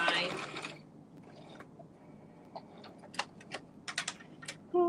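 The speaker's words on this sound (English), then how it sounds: "Snip in my ends." Scissors snip thread ends on a Simplicity S8014 shirtdress during sewing, giving a few soft, close clicks and cuts in small bursts after a brief rustle, with no talking.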